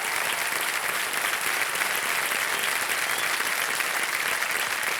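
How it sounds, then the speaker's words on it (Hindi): Steady, dense applause from a studio audience at a KBC 2025 quiz show taping fills the room continuously and evenly, with no voices rising above it. "तालियां बजती रहे।"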